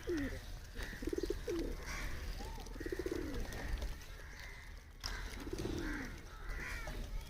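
Domestic pigeons, some with clipped wings, coo in a series of soft, throaty, rolling calls close by, with short gaps between phrases over a low background hum.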